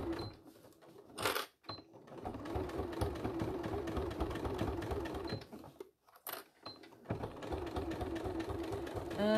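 Domestic sewing machine stitching a faux leather clam shell pouch, running in steady bursts with brief pauses and a short stop before resuming for a back stitch.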